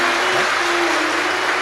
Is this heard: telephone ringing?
no